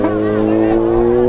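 A Kawasaki ZX25R motorcycle at a busy nighttime street gathering gives a loud, close engine rev, its high whine rising and holding, with crowd noise behind it.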